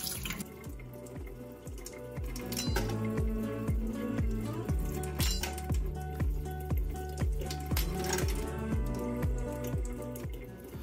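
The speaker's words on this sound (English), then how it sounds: "have a small water drip" A small stream of water drips and runs from a tap into a sink while conch is cleaned, a steady close trickle with regular drip-like plinks repeating throughout, no voices.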